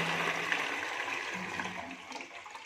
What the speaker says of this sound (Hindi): ये देखिए फ्लश किया मैं